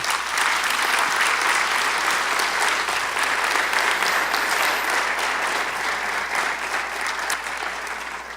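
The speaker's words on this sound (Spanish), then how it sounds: "Dele un aplauso al Señor." A church congregation at a conference applauds continuously, a dense, loud wash of clapping hands filling the room and tapering slightly toward the end.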